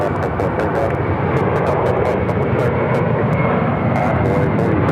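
A United Airbus A321neo jet taking off at Phoenix airport gives a loud, continuous roar that holds steady and close, with faint intermittent radio-like chatter over it.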